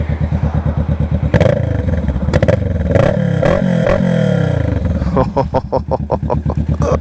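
A Kawasaki Vulcan S 650 motorcycle with a loud, deep Two Brothers aftermarket exhaust idles with a lumpy pulse, then revs hard several times in quick throttle blips, close up.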